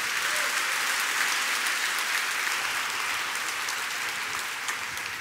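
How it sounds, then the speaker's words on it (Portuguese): Worshippers in a church give the Lord a round of applause, a thick, even roar of clapping hands that holds steady throughout and fades only slightly at the close. "Você pode dar uma salva de palmas ao Senhor?"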